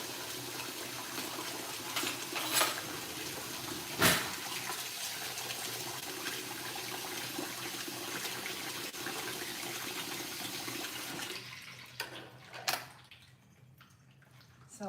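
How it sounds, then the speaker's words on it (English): Tap water runs steadily into a kitchen sink over cooked lasagna noodles, a continuous broadband rush that fills most of the clip before cutting off near the end, followed by a few faint clatters. "I hear the water running."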